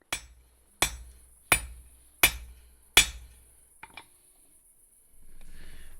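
Five sharp, ringing hammer blows on a solid forge-welded stack of quarters, evenly spaced and close, each decaying quickly, followed by a couple of faint taps and a soft rushing noise.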